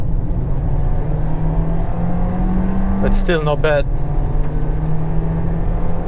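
A Volkswagen Golf R-Line engine hums steadily while driving, a low constant drone under brief speech, with a quick rising whoosh partway through.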